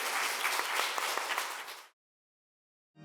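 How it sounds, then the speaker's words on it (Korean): A congregation claps during a Sunday service at Morning Light United Methodist Church, a brief burst of close, dense applause that stops abruptly after about two seconds, followed by silence. "여러분 박수로 격려해 주시기 바랍니다."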